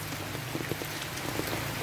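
Dense, steady patter of rain drumming on a taut umbrella overhead, close and continuous, with scattered louder drops and no voices.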